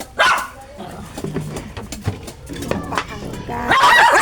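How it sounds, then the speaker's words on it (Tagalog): A dog barks and yips repeatedly nearby, loud and insistent, with a person talking over and between the barks. "Ang ingay, pasensya na guys, ang ingay na aking aso."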